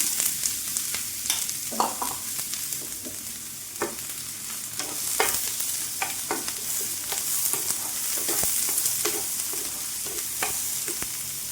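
Chopped onion frying in coconut oil in a pan, a constant close sizzle overlaid with frequent clicking, scraping stirs of a utensil against the pan, no talking.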